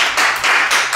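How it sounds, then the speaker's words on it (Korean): Studio audience applauding on cue at a Korean variety show, a dense burst of clapping filling the whole second without pause. "박수 한번 주세요"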